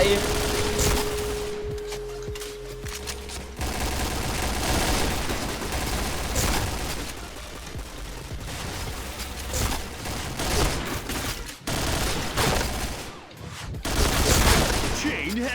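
Sustained automatic fire from the AUG Blue rifle in the video game Point Blank, rapid bursts and rattling shots running throughout with booms and other in-game effects, while someone talks over it.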